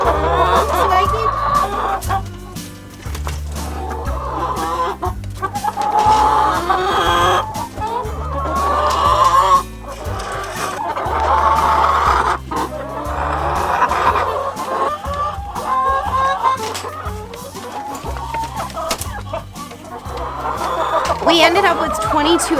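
Hens on a snowy winter homestead cluck and chatter nearby in a busy, irregular flock, with occasional louder squawks and a person talking at times.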